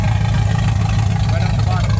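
An engine with its open exhaust pipe uncorked runs with a loud, deep, steady rumble, close and continuous throughout.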